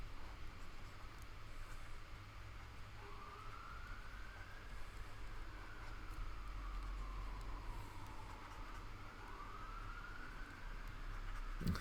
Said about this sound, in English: I wonder if you can hear the police sirens that are going on near me